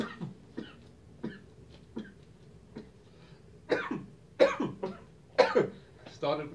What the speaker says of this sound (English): Started with this cough, and I'm going to end with this cough.